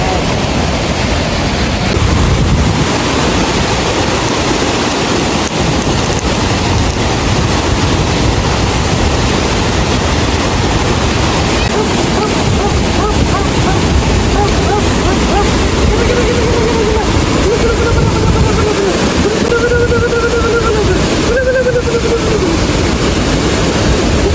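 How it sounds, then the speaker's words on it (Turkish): A waterfall roars as dense, unbroken white noise, loud and close, filling the whole stretch with a faint tonal whine near the end. "Ama şelale çok güzel."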